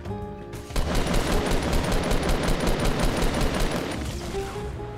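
Sustained automatic gunfire in Fortnite comes as a rapid, evenly spaced burst of shots. It runs loud and continuous for several seconds, then cuts off as in-game tones return.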